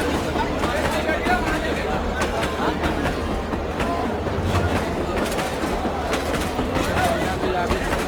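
The Ganjam Express in a cartoon rumbles along continuously toward Bhanjanagar station, with rhythmic rail clatter under a dense babble of passengers chatting throughout.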